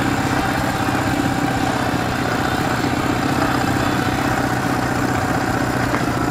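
Steady idling of a motorcycle engine on a mountain trip in the Urals, an even, unbroken close rumble holding the same level from start to finish with no voices.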